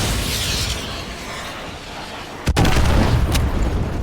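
An AGM missile strike in the video game Modern Warfare 2 Remastered lands as a sudden loud blast that cuts through a dense roaring wash of wind and engine noise, followed by a sustained rumbling aftermath.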